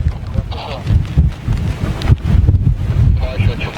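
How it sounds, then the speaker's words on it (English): Strong gusting wind buffeting the microphone at New York JFK Airport in loud, uneven gusts, with low rumbling thumps throughout. "we've got gusting conditions here as well"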